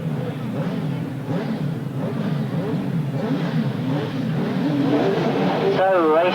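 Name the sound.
racing sidecar engines starting a grasstrack race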